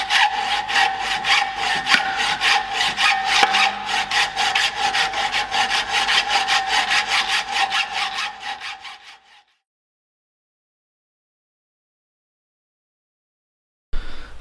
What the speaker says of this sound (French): Tu fais ça et tu scies jusqu'à ce que bah, tu coupes les deux parties là.